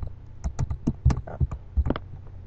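Rapid keystrokes on a computer keyboard as a map name is typed in the UnrealEd editor, about a dozen close, crisp taps in an uneven rhythm.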